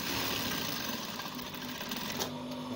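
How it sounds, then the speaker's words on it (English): A sewing machine runs steadily, stitching the half-inch shoulder seam of a button-down shirt, a faint continuous whirring hum close by. "I'm sewing the half inch at the shoulder point."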